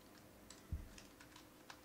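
Typing a fastboot command on a computer keyboard, a few soft, sparse key taps heard close but very quiet, with one slightly louder stroke partway through.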